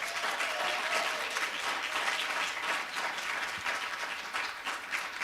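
Sustained audience applause for faculty members at a university nursing school hooding and pinning ceremony, a steady, dense wash of many hands clapping at even loudness throughout.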